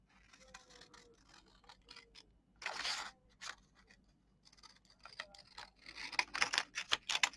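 Scissors snip and slice through paper in short, close bursts, with quiet pauses between cuts and a few quicker snips near the end.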